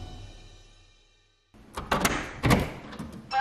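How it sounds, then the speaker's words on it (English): A household door shuts with a solid thunk after a near-silent stretch, followed by a couple more knocks and rustling nearby in a quiet room. "They shut the door."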